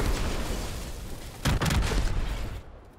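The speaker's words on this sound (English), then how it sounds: "If you shoot a gas pump or a fuel tank, they'll blow up." A gas pump blows up in the battle royale game Fortnite, a heavy boom bursting out of loud ambient noise and then rumbling off over a second or so.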